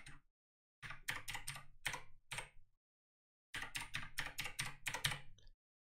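Bursts of typing on a computer keyboard as a network name and password are entered, rapid clustered key clicks in two runs separated by a short pause, close and clear with no talking.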